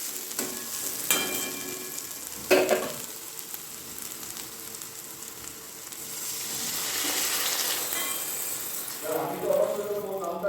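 Potatoes and beans sizzle in a pan, with a few sharp clatters and a loud hiss building as water goes in, while someone talks over the cooking at intervals.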